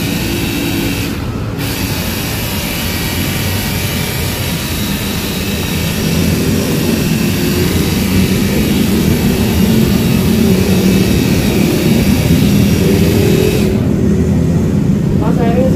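A BULL BL 99 cordless pressure washer motor drones loud and steady, with a constant high-pitched hum over a rough low rumble, holding at the same level throughout.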